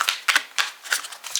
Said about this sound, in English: I can't shuffle these like normal because they're too big